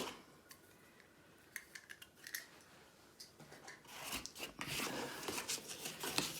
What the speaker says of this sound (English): I think there's just these couple of sellotape tabs that I will cut through